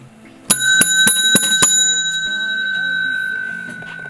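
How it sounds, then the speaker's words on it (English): A small bar-counter bell rung to summon the barkeep: five bright, quick metallic dings in a rapid cluster, each with a clear ringing tone that sustains and slowly fades after the last strike, with faint voices underneath. "you ring that bell"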